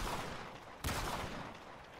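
Gunfire from Call of Duty Black Ops, a dense continuous volley with one sharp, loud shot standing out near the middle, close and punchy.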